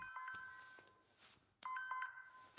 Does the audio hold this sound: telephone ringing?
yes